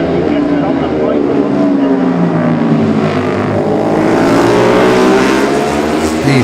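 A classic racing motorcycle in the Classic TT junior race sweeps past out of Stella Maris, its engine droning steadily and loudly for several seconds with a rising then falling pitch as gears change, under a continuous commentary-style voice.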